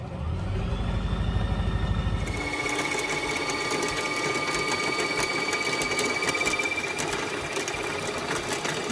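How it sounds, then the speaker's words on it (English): A sewing machine winds thread onto its bobbin with a close, steady high whir. A rhythmic mechanical chatter at the start gives way to a smooth, even spin. "The bobbin will automatically stop winding once it's full."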